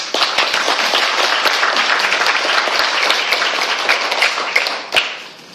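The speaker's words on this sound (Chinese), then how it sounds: "我们再一个掌声。" Audience applause at a temple gathering, a loud, sustained crowd of many hands clapping with sharp individual claps standing out, fading briefly near the end.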